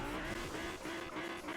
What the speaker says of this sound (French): t'as fait un bruit trop bizarre la voiture